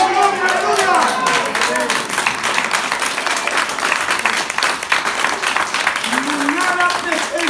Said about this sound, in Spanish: ¡Aplauso al Rey de Gloria!